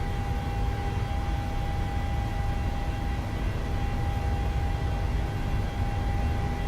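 Steady, broadband roar of Boeing 737-800 jet engines during a takeoff roll in a flight simulator, loud and continuous with a constant tonal whine running through it and no breaks.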